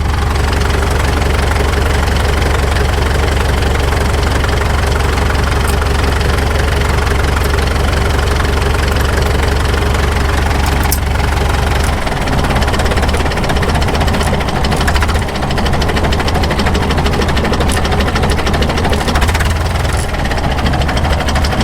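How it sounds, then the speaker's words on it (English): A Caterpillar D2 crawler tractor engine idling low, a loud, close, continuous knocking rumble with an even chugging beat throughout and no voices. "Boy, it's got a really good low idle."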